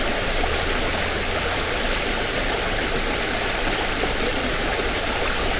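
A pretty riverside spot in Thailand where a river flows steadily, giving a continuous broadband rush of water throughout, fairly close and loud, with no voices.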